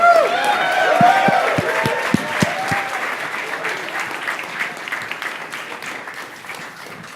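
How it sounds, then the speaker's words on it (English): A launch-event audience claps and applauds loudly, with dense continuous clapping and crowd noise that gradually thins and softens over several seconds, while a voice briefly sounds over it near the start. "keep clapping, don't stop"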